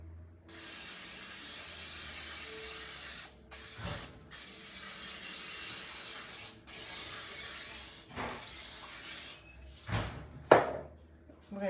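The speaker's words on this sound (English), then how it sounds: "some Pam and spray the pan." Pam cooking spray hissing onto a pan, several bursts of varying length separated by short gaps, close and clear, with a few clanks toward the end.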